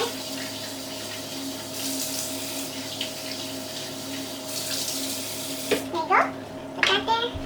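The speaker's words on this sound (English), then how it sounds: "And I'm just gonna rinse it a little bit." Running tap water rinsing seafood squeezed with lemon for a Jamaican-style seafood boil, a steady splashing stream for several seconds before it cuts off, then a few voice sounds at the end.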